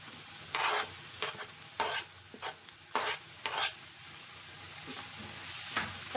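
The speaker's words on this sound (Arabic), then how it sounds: "صافي غادي نحرك حتى يتخلطوا ليا ونساجمو" Carrots and courgette being stirred in a frying pan, with a soft continuous sizzle broken by about six scraping strokes of a utensil against the pan.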